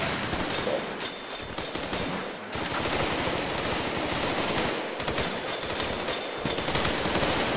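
Rapid, sustained gunfire from a Bear .50 cal rifle in the game Running With Rifles, a dense stream of loud close shots with two brief pauses.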